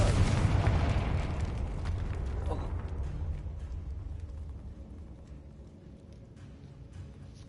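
A fiery blast spell from a wizarding action game erupts as a loud, deep boom at the start, then rumbles and decays over several seconds into a fainter crackling tail.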